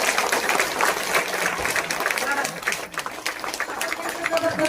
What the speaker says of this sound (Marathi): लय जोरात टाळी वाजवा त्यांच्यासाठी